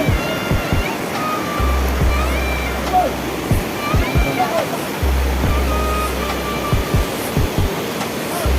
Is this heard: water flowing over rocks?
yes